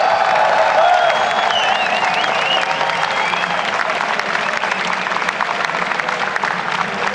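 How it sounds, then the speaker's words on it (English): A large esports crowd at the 2013 European LCS Summer Split final applauds the champions Fnatic on stage, a sustained wash of clapping and cheering, with a faint voice and tonal sounds above it early on. "A well-deserved applause here for you guys."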